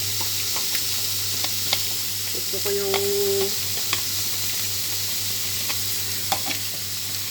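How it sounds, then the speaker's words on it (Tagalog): Milkfish sizzles and crackles steadily in a hot pan, dry-fried, with occasional stirring clicks and a brief spoken phrase in Filipino over the frying. "Kaya ko kasi yung yung dry na prito, yung pagpiprito na dry."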